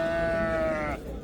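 A single loud, close sheep bleat, one wavering nasal cry from ewes and lambs at a rural livestock bazaar in Chiroqchi district, fading into faint market noise at the end.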